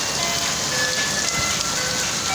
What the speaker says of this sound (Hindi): बारिश होते ही आइसक्रीम वाला भी आ गया है।